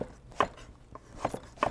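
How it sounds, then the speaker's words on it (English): Knife chopping an onion on a board in an organic garden kitchen setting, a few separate near thuds spaced irregularly, fairly quiet, with no talk. "you're chopping that onion"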